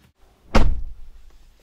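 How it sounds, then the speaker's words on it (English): A single solid thunk of a car door, followed by a short low rumble that fades into quiet. "open the door."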